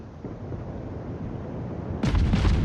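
Warship guns fire during a naval video game battle: a steady low rumble of engine and sea, then a sudden heavy salvo of deep booming blasts near the end.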